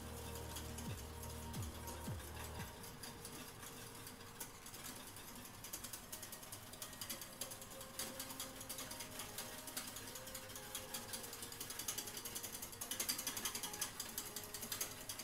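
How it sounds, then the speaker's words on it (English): A whisk clatters and scrapes steadily inside a pot of pastry cream as it thickens over raised heat. The rapid, rhythmic clicking sounds close and continues alone throughout. "I can turn up the heat and keep whisking."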